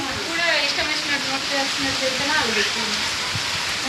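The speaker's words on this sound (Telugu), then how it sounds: "ఇగోండి వర్షం చాలా పడుతుంది." Heavy rain pours in a dense, continuous hiss in Jagitial, with a person talking over it throughout.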